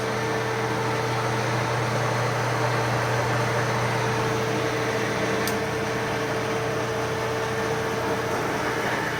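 Kearney and Trecker 2HL universal mill running on its first run, a steady mechanical hum with a constant electrical drone and brief tick partway through, no talk.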